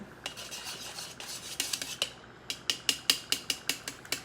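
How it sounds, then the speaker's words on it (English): Metal kitchen tongs stir and clack in a bowl, first in scattered clicks, then in a quick regular run of sharp, close metallic snaps. "I'm just gonna stir this with the tongs"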